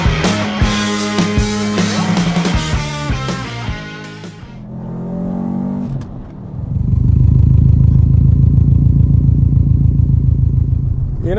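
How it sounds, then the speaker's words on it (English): A 2004 Subaru Impreza WRX STI GDB with a turbocharged EJ255 engine and VF48 turbo drives at a dragstrip, loud and close, shifting through gears before settling into a steady, heavy engine drone. "chose to take out the 2004 Subaru Impreza WRX STI EJ255 powered GDB VF48 turbo"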